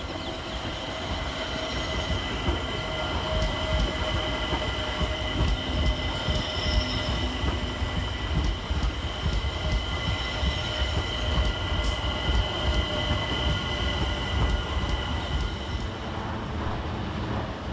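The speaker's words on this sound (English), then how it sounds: "with 378141 being the first to depart, working the 1900 London Overground service to Dalston Junction" London Overground electric train 378141 pulls out of Clapham Junction on the suburban side, a steady loud rumble of wheels on rail with sustained squealing tones, continuous and close for the whole stretch.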